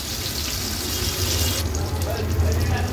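Fish piece, surmai or similar in Agri Koli style, frying in oil over a low-medium flame, giving a steady continuous sizzle with a low rumbling undertone throughout.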